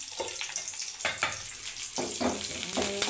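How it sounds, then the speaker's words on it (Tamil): Curry leaves and onion sauté in a pan for a green banana stir-fry, a steady close sizzle broken by a few stirring scrapes. "கருவேப்பிலை, வெங்காயம் நல்லா வதங்கினதும்"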